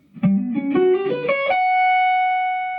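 A major 7 arpeggio played as single notes rising in five quick steps with the sharp 11 replacing the fifth, ending on a sustained top note that rings and slowly fades, with a distorted electric tone.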